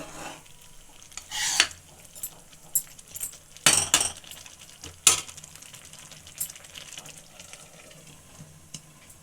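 Pot, lid and spoon handling while cooking vermicelli upma on a stove, with scattered metallic clinks and scrapes, a few sharper clanks and quieter stirring in between, all close by.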